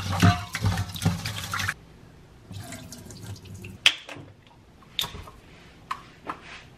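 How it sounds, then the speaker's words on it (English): Rice being rinsed and sloshed around in water at a kitchen sink, starting with running tap water and splashing, then quieter swirls, drips and a few sharp clinks, heard close up with no talk. "so very important to rinse your rice always. Give it a good like slosh around"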